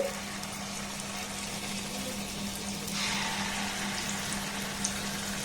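Rice-flour and palm fritters fry in hot oil with a steady, quiet sizzle and bubbling and a faint low hum underneath. The sizzle grows slightly louder partway through.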